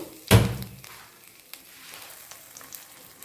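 Mustard seeds, cumin and a red chili hit hot oil with a sharp burst of sizzling, then crackle and pop more quietly for a few seconds.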